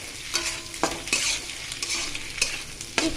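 Scrambled eggs frying in a pan with onion and chilli, a bright steady sizzle punctuated by several sharp spatula scrapes and taps against the pan, close by.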